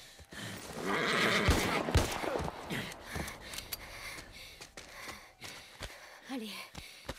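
A horse in The Last of Us Part I gives a breathy whinny and snorts, rising loudly then fading to softer huffs, close by, with brief speech around it.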